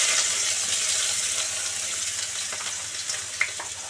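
Chopped onion and garlic frying in hot oil in a wok, a loud steady sizzle that stays close and even throughout, with one brief scrape of stirring near the end.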